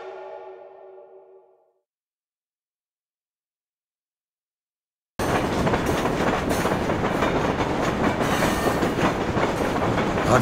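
A train rolling along rails in the 2007 PC shooter Mortyr 3, a dense, steady rumble and clatter that cuts in abruptly after a brief faint sound and a stretch of silence.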